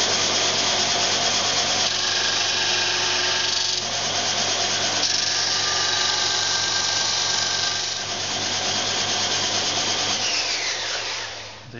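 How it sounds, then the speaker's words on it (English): Continuous steady sanding of timber pieces flush on a MiniMax wing rib, a loud rasping abrasive drone that barely varies, with no speech. "The final part of the operation is just sanding these pieces of timber"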